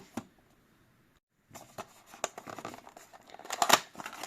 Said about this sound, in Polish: Przejdźmy do rozpakowania.